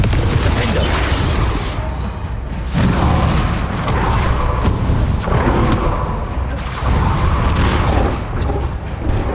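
A Confringo spell explodes in a video game with a loud, continuous booming roar. Heavy rumbling bursts swell and fade across the whole stretch without pause.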